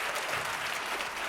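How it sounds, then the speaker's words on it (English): Brief burst of audience clapping at a live comedy or panel show, steady dense applause filling the whole moment with no voices over it. "You can clap it if you want."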